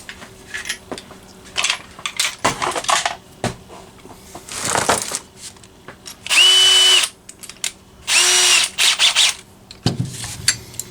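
Two bursts of power drilling, each about a second long, with the motor whining at a steady pitch, amid clinks and handling noises of tools close by.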